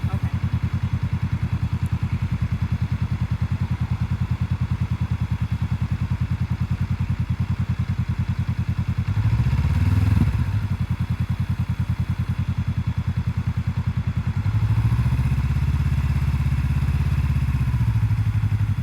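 A motorcycle engine idles steadily and close while the throttle is worked in the friction zone, with two brief low swells of revs rising over the constant chugging.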